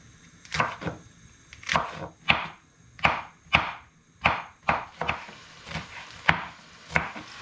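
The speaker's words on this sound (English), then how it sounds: "I'm going to finely chop the rest of my veg in pretty much the same way" A knife chops vegetables on a cutting board in a string of about a dozen crisp, separate strikes with an uneven rhythm, close and clear with no talking.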